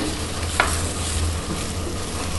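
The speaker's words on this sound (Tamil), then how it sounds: "அந்த வெஜிடபிள்ஸையும் அந்த சிக்கனையும் அப்படி ஒரு மிக்ஸ் பண்ணி விடுங்க" A spoon stirs baked chicken and vegetables in a pan with watery juices, giving a steady close sizzle with a faint scrape near the start and no voices.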